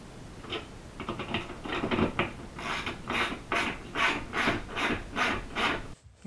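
A fan brace bar is tightened between ceiling joists over a junction box hole, with a steady series of rhythmic scraping, ratcheting strokes, about one every half second, close and moderately loud, with no talking.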